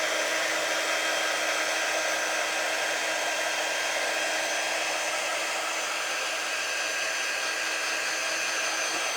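A hair dryer blows steadily and close by for the whole stretch, drying freshly applied chalk paste paint on a craft frame, a constant broadband whoosh with no talk over it.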